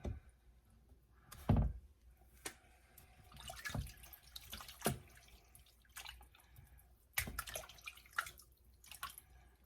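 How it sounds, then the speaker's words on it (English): Chitterlings are rinsed in a sink, with soft, quiet water sloshing and irregular splashes and clinks spread across the clip, no talking. "I'm just rinsing it around, seeing if I can find any other dirty places."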